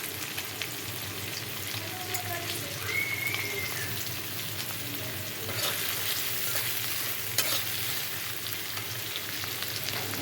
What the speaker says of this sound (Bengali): আর দেব পেঁয়াজ কুচি